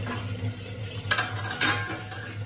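Soybean curry cooking in a pot on the stove gives a soft, steady simmer and faint sizzle, with two brief clinks of a utensil against the pan partway through.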